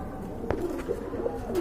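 A male pigeon gives a few low, throaty coos close by, short rolling calls repeated in quick succession over quiet background noise.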